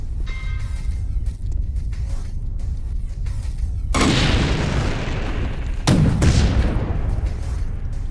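Heavy booming explosions and gunfire in the video game Chaser, a loud continuous rumble with two big blasts that swell and roll on.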